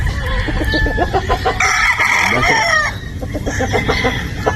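Gamefowl on a game farm in Batangas, with a rooster crowing loudly up close amid overlapping clucks and other bird calls.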